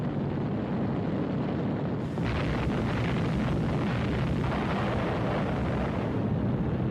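Depth charges exploding against submarines in WWII footage, heard as a continuous roaring, rumbling wash of noise that swells after a couple of seconds and stays dense and steady throughout.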